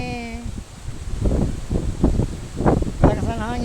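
Strong, hot wind blows outdoors near a santol tree, a steady rushing rumble with rustling, as people talk over it.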